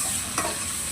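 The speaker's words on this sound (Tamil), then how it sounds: "காயை கொட்டி கொஞ்சம் கிண்டி விட்டுறலாம்" Boiled vegetables being stirred in a hot frying pan for a Tamil village-style curry, a steady close sizzle with one brief scrape of the spoon.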